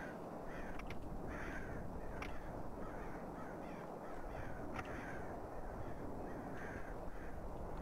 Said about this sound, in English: I hear crows, where are they?